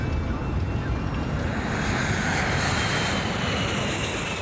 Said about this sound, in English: the airplane is accelerating rapidly enough